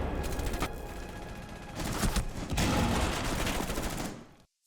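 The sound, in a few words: gunfire in a video game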